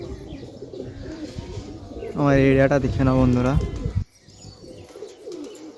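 Madrasi pigeons kept at home give two loud, close coos in quick succession over a person talking, with a faint background hum before and after.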